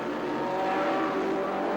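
Indy race cars roar past on track, including Teo Fabi's Paul Newman March, a steady loud engine drone holding at high revs across the whole stretch, with no talking.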